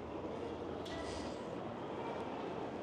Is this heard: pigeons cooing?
no